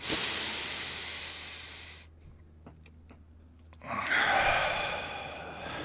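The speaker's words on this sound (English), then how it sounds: "So another deep, deep, deep breath." A long, deep inhale hisses in close to the microphone, then a pause of near silence, followed by a strong exhale, as part of a guided breathing exercise.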